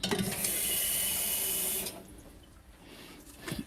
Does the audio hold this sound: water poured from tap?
yes